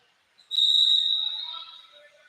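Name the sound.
referee's whistle at a high school basketball game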